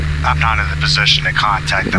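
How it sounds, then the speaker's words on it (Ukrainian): Helicopter patrolling over a hospital in the horror video game Nightmare House, a steady low rotor drone humming continuously beneath a voice talking over it. "Цією лікарні просто зараз патрулює гелікоптер."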